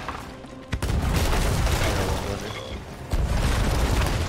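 Gunshots and booming fire in a video game firefight, with heavy rumbling blasts and dense crackle, loud and continuous with sharp onsets near the start and again about three seconds in.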